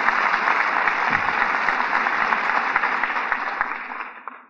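Studio audience applause for radio drama stars Humphrey Bogart and Walter Huston, a steady dense clapping that fills the room and then tapers away at the end.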